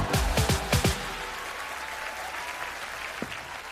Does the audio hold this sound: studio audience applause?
yes